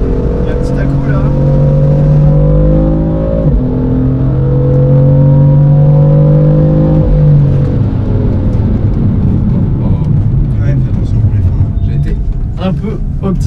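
A BMW M car with a non-stock exhaust revs hard on a track, the engine note climbing loud and close, while people talk over it inside the car.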